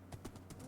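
Horse hooves in Minecraft, a few soft clip-clop steps at a steady pace, faint and close under a low background hum.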